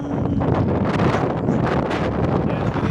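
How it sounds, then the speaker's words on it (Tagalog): Strong roaring wind like a typhoon buffets the microphone outdoors, a loud, steady rumbling rush with no letup throughout. "Dumadagundong na hangin."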